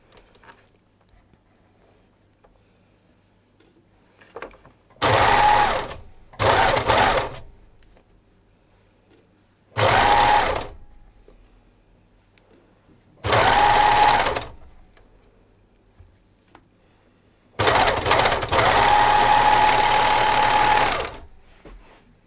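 Sewing machine stitching jersey stretch fabric for baby leggings, running in five close, loud bursts of whirring stitching, the last one longest, with near silence between runs.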